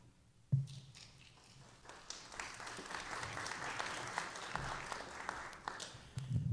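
Applause from an audience at an MLK Day celebration, starting abruptly after a brief quiet moment and swelling into steady, sustained clapping from a sizeable crowd, fairly close.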